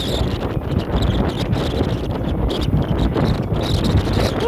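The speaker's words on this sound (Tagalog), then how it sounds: "Ang hangin." Heavy wind buffeting the microphone on Kowloon Peak, Hong Kong, a constant low roar and rumble throughout with no voices.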